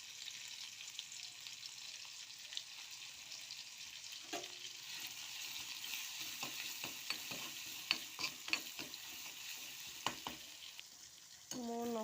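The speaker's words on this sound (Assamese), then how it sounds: "এতিয়া মই নহৰুখিনি অলপ ভাজি লম" Garlic sizzles in hot oil in a wok, a steady frying hiss broken by intermittent scrapes and clinks of stirring, with a louder burst of sizzling near the end.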